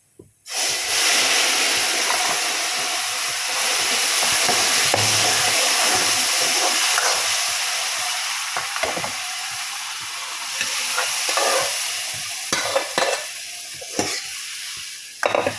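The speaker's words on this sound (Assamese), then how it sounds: "কেইটামান দিছোঁ মেথি, আৰু তেলতে দি দিম এতিয়া" Fenugreek seeds and turmeric hitting hot oil in a pan, bursting into a loud, steady sizzle that settles and thins out, broken near the end by scattered clinks and stirring.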